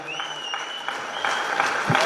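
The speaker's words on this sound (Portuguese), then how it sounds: "uma salva de palmas para a grande ADFA" Audience applause at a youth football cup event in Fornos de Algodres, starting modestly and swelling toward the end of a brief burst, with a faint tonal whine and some voices mixed in.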